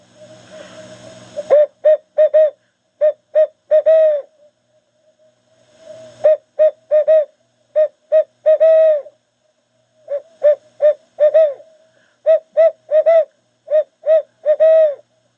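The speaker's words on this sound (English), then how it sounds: "A good locator call is the HS Strutt Barred Owl Hooter." An HS Strutt Barred Owl Hooter locator call is blown in repeated hooting cadences, loud and close: clusters of short, clear hoots with longer pauses between phrases, and no talk.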